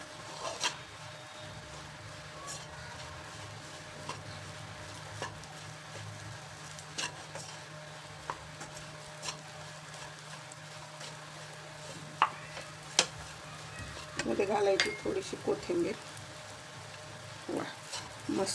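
A chopped potato and chickpea mixture being stirred in a pan, with faint soft scraping and a light sizzle, occasional small clicks, and a brief louder burst of stirring near the end.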